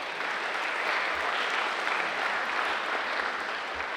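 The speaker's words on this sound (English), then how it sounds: "let's give our parents a big round of applause for that" Athletes and a crowd at a school sports kick-off give parents a round of applause, steady mid-level clapping filling the room with occasional low thumps underneath.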